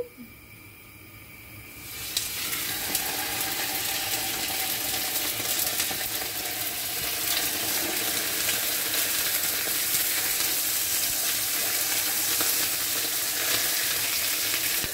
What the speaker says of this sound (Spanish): La trucha la vamos a poner en la sartén